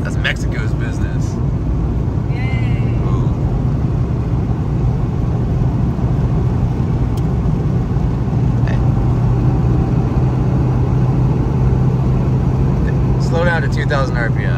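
A Honda Civic engine runs steadily while the car drives in third gear around 2,000 RPM, giving a continuous low drone with road noise throughout, and people talk intermittently over it.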